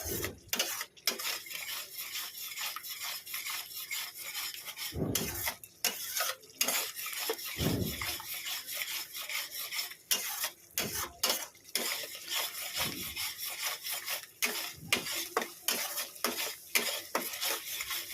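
Spice masala for cauliflower korma being stir-fried in a pan over medium gas, with repeated scraping strokes and metal clatter against a low sizzle, steady and close, with no voices.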